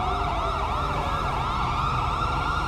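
Police and ambulance sirens wail in GTA V with the LSPDFR mod: overlapping electronic sirens sweep up and down continuously, loud and close over a low engine rumble, with no talking.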